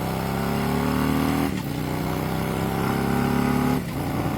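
A Harley-Davidson Electra Glide Standard motorcycle accelerates hard on a Southern California road, its loud engine roar rising through the gears with two brief dips at clutchless upshifts, sustained and close throughout.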